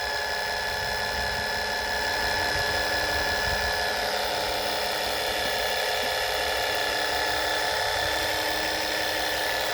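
A pump runs at higher speed during an oil service on a small Westwood Gazelle W11 garden tractor engine, a loud, steady high-pitched whine with a rough motor buzz beneath, continuous throughout.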